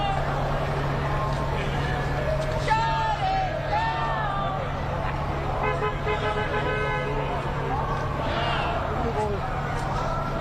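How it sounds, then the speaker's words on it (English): Amazon workers on strike in New York chant as a crowd amid steady street traffic, with car horns tooting now and then in the background; the mix is a continuous outdoor din with voices throughout. "You can hear some of them chanting and also some horns honking in the background"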